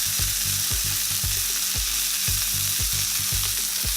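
Burger buns toasting on a hot grill, a steady close sizzle with soft irregular thumps underneath, no voices.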